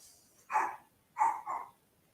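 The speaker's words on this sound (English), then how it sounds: "You can hear the dog." A dog barking in a room, three short muffled barks with the last two close together, moderately near, with no talk.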